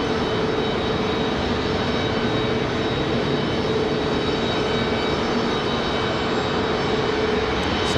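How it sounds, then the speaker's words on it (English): A Frontier Airlines jet departs Raleigh-Durham International Airport on a flight to Orlando, its engines giving a loud, steady roar that holds at constant strength throughout, with no voices. "At last departure, Frontier 1785 off to the House of Mouse down to Orlando."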